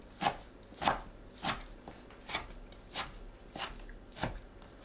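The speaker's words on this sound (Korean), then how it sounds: "삶은 시래기를 작게 썰어주세요" A knife chops boiled dried radish greens (siraegi) on a cutting board: about eight soft, evenly spaced strokes, quiet and close, with nothing else heard.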